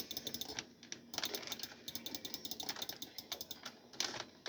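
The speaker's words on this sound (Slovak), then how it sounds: "Počujete moju myšku, aj moju klávesnicu, pretože zdá sa povedať, že je trošku staršia tá klávesnica" An old computer keyboard clattering under fast typing, mixed with mouse clicks, during Minecraft hardcore play. Irregular close clicks arrive in quick clusters at a low level, with no voices.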